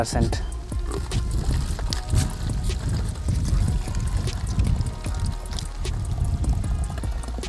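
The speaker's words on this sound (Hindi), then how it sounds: "सबसे पहले हम क्या करेंगे इसमें पानी भरेंगे" Water splashes and trickles into a plastic bottle being filled for a homemade water bottle rocket, a continuous gurgling pour with irregular surges, fairly close and loud.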